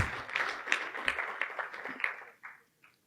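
A small audience at a biopharma supply chain event applauding, a loose patter of claps that thins out and fades to a few scattered claps at the end.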